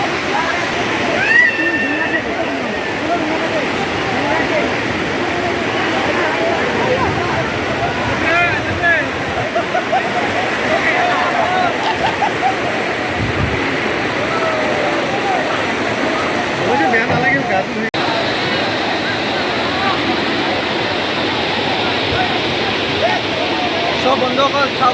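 Rushing river water flowing from Bhutan at a riverside picnic spot, a steady broadband wash of current and splashing that runs continuously throughout at close range, with faint voices mixed in.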